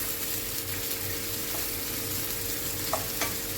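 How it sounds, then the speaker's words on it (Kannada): Sausage frying in hot oil in a pan, a continuous close sizzle with a couple of faint taps, no one talking. "ಎಣ್ಣೆಯಲ್ಲಿ ಫ್ರೈ ಮಾಡಬೇಕು ಈಗ ಇದನ್ನು"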